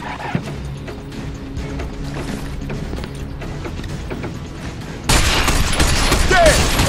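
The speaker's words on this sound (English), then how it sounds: "Watch out for that machine gun fire!" Sustained automatic machine gun fire in the shooter game Binary Domain, a dense rattling burst over background game noise that suddenly grows much louder and closer for the last couple of seconds.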